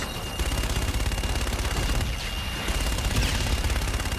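A continuous roar of rapid gunfire from a gun run in the Call of Duty: Infinite Warfare video game, loud and sustained through the whole stretch.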